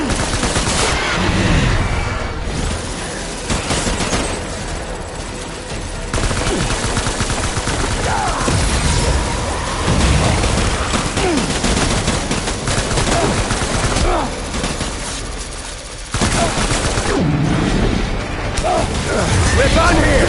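Gunfire in the Death Stranding video game: sustained bursts of loud automatic fire and heavy impacts fill the whole span, with brief gaps, and shouted voices mixed in.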